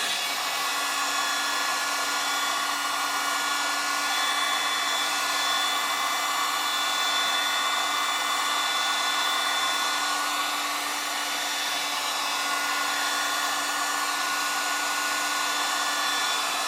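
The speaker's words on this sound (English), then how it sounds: "this is really hot heater what generates like 500 Celsius heat. And now I dry this area" A very hot heat gun, around 500 Celsius, dries a car body area before gluing, giving a steady loud blowing whir with a fixed tonal hum that runs unbroken throughout.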